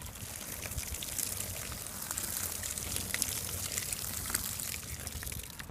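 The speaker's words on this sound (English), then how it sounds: "We're going to give it a good sprinkling of water." Water sprinkled over a homemade worm farm bedding of food scraps, tea bags and banana peels, a faint, continuous fine patter and trickle throughout.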